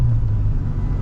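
A Honda Civic rally car at a Saaremaa rally runs with its engine hot, giving a steady, loud, low rumble that holds throughout with no break.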